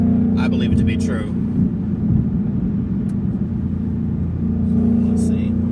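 Ford Mustang Bullitt V8 engine pulling in fourth gear from around 3,700 RPM, a steady loud low drone with harmonic bands that swell slightly as it climbs, with a voice speaking over it.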